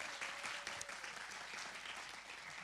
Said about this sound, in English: Round of applause for Caroline.